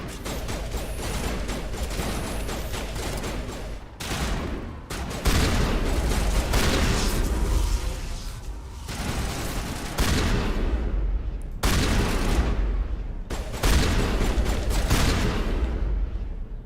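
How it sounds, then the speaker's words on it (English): Shotgun blasts in Mass Effect Legendary Edition, loud bursts of gunfire clustered in heavy volleys with short pauses between, dense combat din throughout, no talk. "let's try the shotgun"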